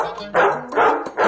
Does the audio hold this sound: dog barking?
yes